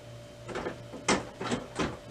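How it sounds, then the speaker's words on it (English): A replacement transfer belt for an Okidata ES7412 printer being set back into the machine, giving a few soft plastic clicks and scrapes spread over about two seconds against a quiet electrical hum. "carefully set it back into the printer"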